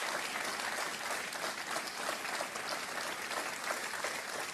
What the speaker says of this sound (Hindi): और तालियां बजती रहनी चाहिए देवी और सज्जनों